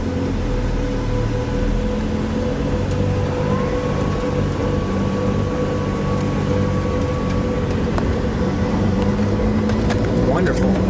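A 2017 Ford GT with a twin-turbo V6 engine hums steadily from inside the cabin as it drives off. The drone is low and continuous, with a rising tone partway through and some faint rattles, and no one speaks over it.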